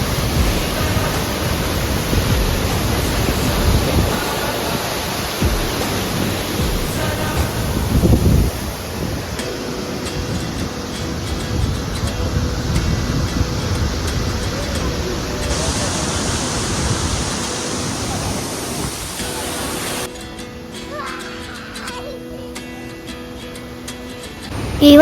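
The Ripple waterfall near Munnar, Kerala, during the monsoon pours as a steady, loud broadband roar of rushing water, partly buffeted by wind on the microphone, with the rush easing toward the end.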